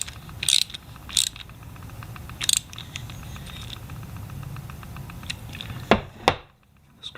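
A ratchet tightens bolts on the carburetor of a Troy-Bilt 21-inch 675 Series Briggs & Stratton lawn mower, with rapid clicking pawl bursts repeating in short strokes, close and distinct over a quiet background.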